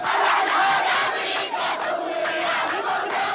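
A large protest crowd roars and shouts continuously, a dense, loud wall of voices with no single speaker standing out.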